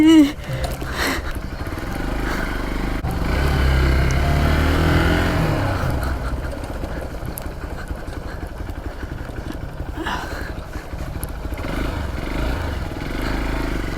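A dirt bike engine running in second gear at an adventure park, a rough steady drone that swells and fades as the bike passes, with bumps and rattles over the track.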